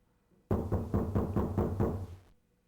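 Knocking from inside a coffin in the Zero Escape 999 video game: about eight steady, hollow thumps in an even rhythm, close and loud, with no voices.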